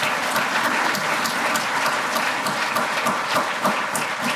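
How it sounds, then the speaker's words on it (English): Audience applause for city employees at a community breakfast forum, a dense, steady wash of many hands clapping that holds evenly throughout with no voices over it. "please give them a round of applause"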